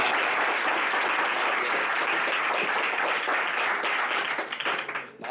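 A crowd applauds steadily for a guest named Bharat Bhushan at a motivational talk, dense clapping filling the room without a break before thinning slightly at the end.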